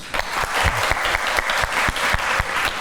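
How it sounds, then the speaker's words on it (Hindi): Studio audience applauding two guests on a talk show, loud sustained clapping with distinct individual claps standing out throughout. "सो बहुत सारी तालियां दोनों गेस्ट के लिए।"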